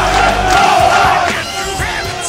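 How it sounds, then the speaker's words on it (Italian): Away supporters roar at an amateur football match after their side scores, a loud sustained crowd cheer with shouts that holds steady and then eases slightly toward the end, with no commentary over it. "festa grande dei tifosi ospiti."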